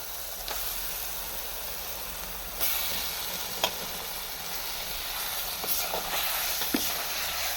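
Liver sizzles in hot oil in a pan over a wood-fire stove, a steady close hiss and crackle with occasional sharper pops and stirring clinks, no talking.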